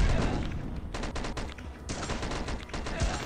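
Gunfire in the zombie video game Dead Ahead: Zombie Warfare comes as dense bursts of rapid shots and sharp sniper cracks, loud and overlapping over a few seconds with no talk.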